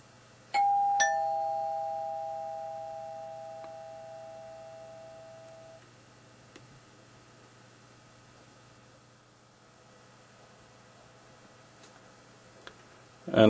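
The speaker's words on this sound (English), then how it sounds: "if you want a more traditional doorbell tune" A two-tone doorbell chime rings once, its tone ringing out and fading slowly into a quiet room, followed by faint ticks and a click.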